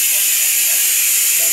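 Steady, loud hiss of steam escaping from a pressure cooker on a home stove, a continuous broadband rush holding constant throughout with no pauses.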